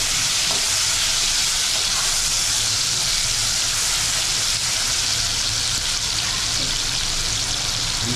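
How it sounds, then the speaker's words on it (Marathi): Tomatoes hit hot oil with a garlic tempering in a pan, making a loud, continuous sizzle and hiss up close that stays steady throughout. "आता लसूणची फोडणी दिली आहे त्याच्यामध्ये टॉमॅटो वगैरे टाकणार आम्ही."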